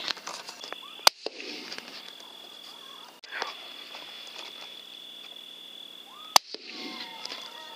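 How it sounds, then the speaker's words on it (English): Two sharp rifle shots from a jackal hunt in South Africa, spaced about five seconds apart, each a single loud crack over a steady night background of insects. "Shots."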